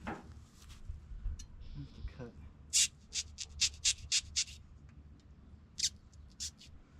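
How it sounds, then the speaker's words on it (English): Short, sharp snipping or cutting strokes into a rubber truck canopy seal, a rapid series of crisp close-up bursts with a brief pause before a final few, over a quiet background. "Putting a little hole in the seal here where I gotta have the screw go through"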